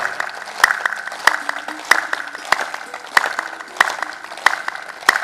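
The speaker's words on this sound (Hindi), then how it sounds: "ताली बजाओ, रोग भगाओ।" A group claps together in slow, even unison as a therapeutic exercise, each crisp loud clap spaced about two-thirds of a second apart, with a faint background voice.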